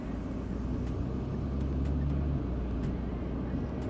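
A 300-horsepower car driving on the Le Mans circuit, its engine a steady low drone heard from inside the cabin, rising slightly midway, with no talk.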